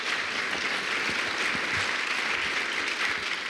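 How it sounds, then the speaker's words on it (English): An audience at a talk gives a steady round of applause, a continuous wash of many hands clapping at moderate distance, unbroken throughout with no voices over it. "Folks, how about one more round of applause for JES's own Reverend Charles Brock."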